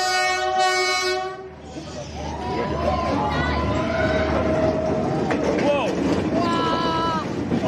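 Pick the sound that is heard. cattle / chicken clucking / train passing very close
train passing very close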